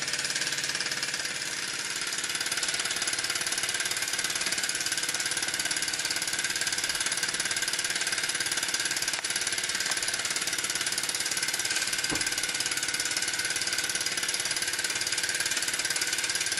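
A Cyldon model steam engine with a painted flywheel runs at a steady, smooth speed, giving an even, continuous mechanical hum with a faint rapid rhythm throughout, close and alone with no voices.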